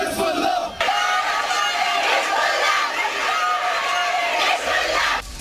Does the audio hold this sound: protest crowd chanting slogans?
yes